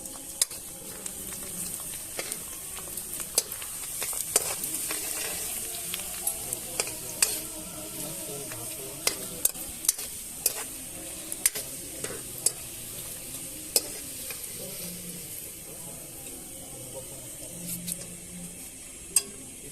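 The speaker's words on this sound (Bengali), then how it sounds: "এবার আমরা সবার প্রথমে পাঁপড়টা ভেজে নেব।" Papad frying in hot oil at an outdoor night picnic gives a steady soft sizzle, punctuated by scattered sharp clicks and taps of a utensil against the pan, moderately close.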